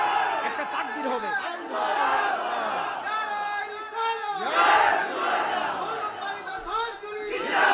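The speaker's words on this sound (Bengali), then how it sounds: "একটা তাকবীর হবে।" A congregation at a Bangla Islamic sermon chanting takbir, Allahu Akbar, in loud unison, with repeated rising shouted calls from many voices in a large crowd, punctuated by brief gaps.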